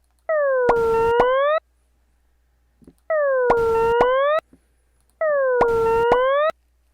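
A synthetic tone with harmonics swoops down and back up in a U-shaped parabolic pitch curve over sine waves, played three times with short silences between.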